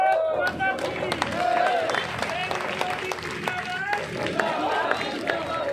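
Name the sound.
crowd clapping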